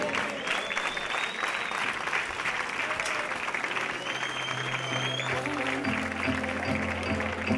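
Sustained crowd applause for two women fighters at the end of a catchweight bout at a combat sports event, loud and steady throughout, with a few tonal music notes entering near the end.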